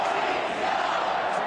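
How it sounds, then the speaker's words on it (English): Carolina Hurricanes hockey fans chanting in an arena at the Stanley Cup Finals, a brief, steady, loud roar of many massed voices that fills the whole moment. "The chanting followed."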